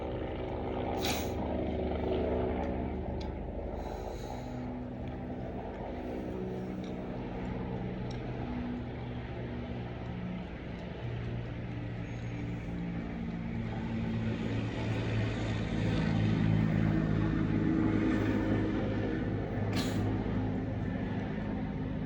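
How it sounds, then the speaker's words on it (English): A helicopter flies over Los Angeles, heard as a faint, steady, droning thrum in the background that swells slightly for a few seconds as it passes. "Not sure if the helicopter can be heard, but this is like a frequent occurrence in LA these days."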